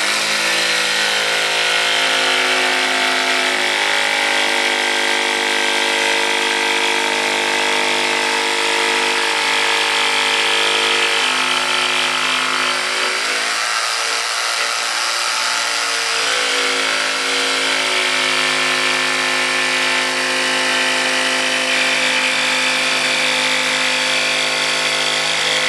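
A power saw cuts steadily through a wooden table along the inside of a drilled hole while preparing a model train layout, a loud continuous whining buzz with a brief dip in pitch as the blade bites.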